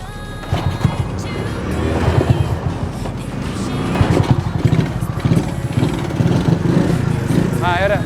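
A Honda CB100 motorcycle, under restoration, rides along with a steady engine drone and low rumble that swells and fades over several seconds, with voices audible at times over the engine noise.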